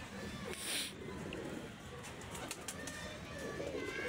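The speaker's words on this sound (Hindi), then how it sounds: "ये जी दोस्तों माशाल्लाह से कबूतर की बंतर है" Pigeons at a rooftop pigeon loft give faint, soft cooing and a brief flutter of wings behind someone talking close by, with the birds staying quiet and distant under the voice.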